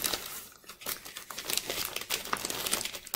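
A small plastic Ziploc bag holding a book crinkles and rustles continuously as it is handled, up close with irregular crackling bursts.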